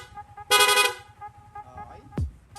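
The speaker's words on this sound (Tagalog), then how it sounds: "Sa busina, ganun din po, no? Tapos rapid horn." A PIAA rapid car horn on a Sniper 155 motorcycle gives one loud, bright half-second blast, followed by quieter tones and a short electronic chirp over a low idling hum.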